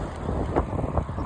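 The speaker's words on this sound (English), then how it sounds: "It's so windy." Strong gusts buffet an outdoor microphone on a cold, windy day during a cycling trip near Carlsbad, a steady low rumble with brief louder thumps throughout.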